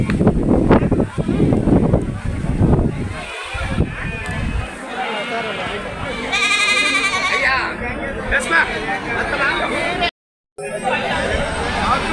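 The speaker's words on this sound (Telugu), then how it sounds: "మంచి మంచి మేకలు వస్తుంటాయి, మేకపోతులు వస్తుంటాయి." Goats and sheep bleat repeatedly at a busy goat market, several calls rising loud and near over a constant background of chattering crowd and people talking.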